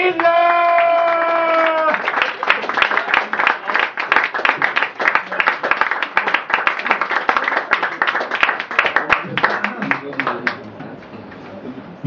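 Crowd applause at a dialect poetry slam, dense clapping with a few cheers that follows a host's sung or sustained voice and fades out near the end.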